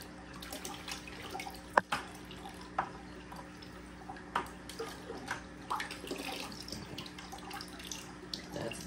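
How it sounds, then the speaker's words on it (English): Water sloshing and dripping as a small mini aquarium filter is rinsed in old fish tank water, with irregular splashes and drips at close range and no talking. "Let's rinse this out real quick in the old fish tank water."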